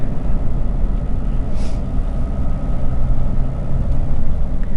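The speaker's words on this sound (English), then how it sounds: "This tractor." A tractor engine runs on a rural road between Cleveland and Ellijay, Georgia, a steady low rumble that stays loud and even throughout, with no talk.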